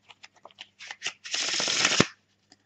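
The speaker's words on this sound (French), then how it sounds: "je vais mélanger les faces visibles avec les faces cachées" Playing cards are shuffled for a magic trick, face-up and face-down cards mixed together: a few quick soft riffles, then a dense continuous riffle lasting under a second and ending in a snap, close and clear with no talk.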